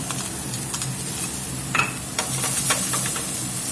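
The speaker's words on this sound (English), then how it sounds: "We're going to get our sliced shallot in" Sliced shallots sizzle and crackle in a hot skillet while making Steak Diane, a steady close frying hiss with occasional utensil scrapes and clinks against the pan.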